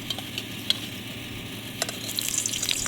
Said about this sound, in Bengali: কচু পাতার একটু ভেজে নিচ্ছি